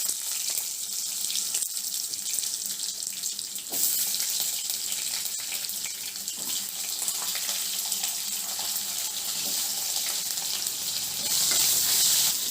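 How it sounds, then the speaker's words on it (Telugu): Baby potatoes fry in hot oil with tempering seeds and curry leaves, a continuous bright sizzle and crackle heard up close, with occasional stirring knocks and no talk. "two minutes వేయించుకుందామండి potatoes"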